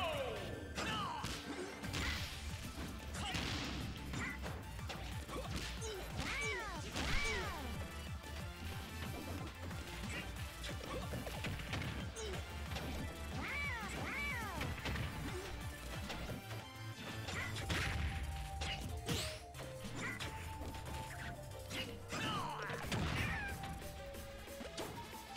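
Yoshi Bomb and command grab impacts in a fighting video game: repeated heavy smashing crashes and thwacks over busy game music and effects, loud and close, with cartoonish character cries mixed in.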